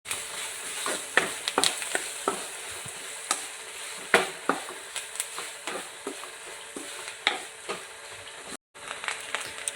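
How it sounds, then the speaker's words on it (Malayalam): Grated coconut and curry leaves with turmeric and chili powder are stirred in a hot pan for a pumpkin-leaf thoran, making repeated sharp spatula scrapes and clicks over a soft sizzle, briefly cutting out near the end. "അതിലേക്ക് ഒരു ബൗൾ ചെറിയ തേങ്ങയും കറിവേപ്പിലയും കൂടി ഇട്ട് ഇളക്കണം."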